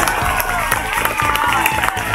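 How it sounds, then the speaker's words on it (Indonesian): An audience at a Maulid Nabi religious gathering claps together, with loud, dense applause and some crowd voices under it. "Tepuk tangan dulu."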